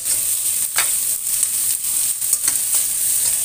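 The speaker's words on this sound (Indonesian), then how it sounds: "Kita tumis-tumis seperti ini." Macaroni stir-fried with carrot, scallion and celery in a pan, giving a loud steady sizzle with repeated scrapes and stirring strokes throughout, and no talking.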